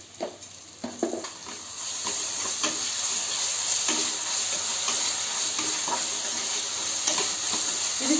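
Ginger garlic paste frying in a pan while a spoon stirs it, a steady soft sizzle with light scraping taps from the stirring.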